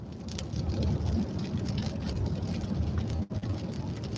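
Steady rain noise with a low rumble, rain heard from inside a car with the wipers off, continuous and fairly loud with a brief dip near the end.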